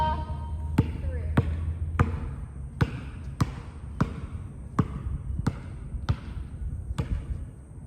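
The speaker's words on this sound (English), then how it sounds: "you're passing the basketball from one hand to the other hand in between your legs" A basketball bounces sharply on a hard floor, dribbled between the legs in an even rhythm of about ten crisp thumps, close and clear with no talk over them.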